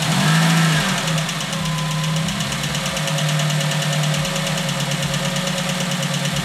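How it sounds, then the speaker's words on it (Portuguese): A Volkswagen Gol G2 engine runs steadily with a valve knock, a loud close mechanical drone with rhythmic tapping and a low hum throughout, with no voices. "Eu tô falando alto porque esse motor é barulhento."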